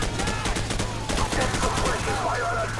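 Sustained automatic gunfire from a Call of Duty 4: Modern Warfare firefight, rapid bursts crackling loud and continuous over a low engine-like drone, with shouted voices in the battle mix.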